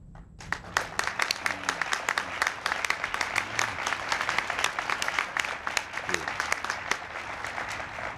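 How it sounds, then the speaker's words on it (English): An audience at a presidential Hispanic Heritage Week event breaks into sustained applause for standing honorees, crisp claps building quickly and continuing at a moderate distance, with faint voices mixed in. "I'd like to ask them to please stand so they can receive a strong round of applause."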